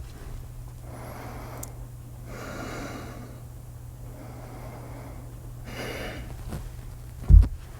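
Deep, rhythmic yoga breaths during a vinyasa power flow class, with slow inhales and exhales alternating in broad airy swells over a steady low hum, ending in a short sharp thump.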